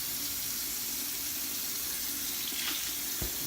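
Water runs steadily from a tap as a hand is rinsed during a straight razor shave, a close continuous splashing hiss with a small knock near the end.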